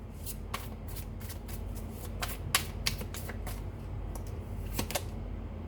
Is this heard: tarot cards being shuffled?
yes